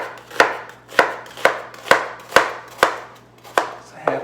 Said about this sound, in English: we're going to dice this onion